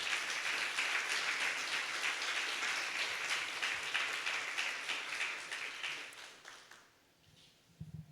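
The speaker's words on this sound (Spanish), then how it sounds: "Denle un aplauso al Señor," Church congregation breaking into sustained applause, a thick crowd of clapping hands that carries on for several seconds, then fades out and leaves near silence with a few faint bumps.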